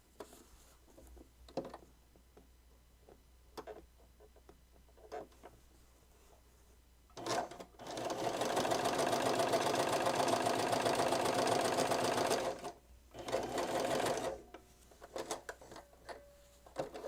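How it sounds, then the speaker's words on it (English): A sewing machine stitches improvised snow pants in two bursts: a long steady whirring run of about five seconds, then a shorter run, separated by quiet pauses with scattered small clicks and handling noises. "I'm going to go over it with my machine too."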